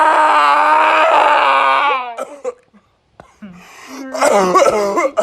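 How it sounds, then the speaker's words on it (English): A boy's coughing attack while eating without using his hands: hoarse, strained, voiced coughs and gasps, a long rasping fit followed by short bursts, a pause, then more loud choking coughs, close and intense. "coughing attack is over"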